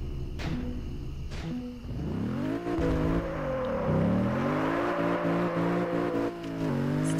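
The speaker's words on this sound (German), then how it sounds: "Jetzt driftet er teilweise." A car drifting in the racing game Test Drive Unlimited 2, its engine note rising and falling in long sweeping whines with tire noise, loud and steady without talk.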